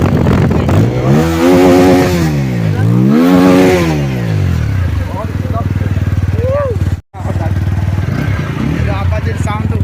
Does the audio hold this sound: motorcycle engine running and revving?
yes